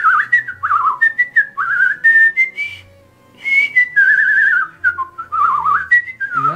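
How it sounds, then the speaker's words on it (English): A person whistles a quick, lively tune up close, with short sliding notes and brief pauses. "I could whistle like really good"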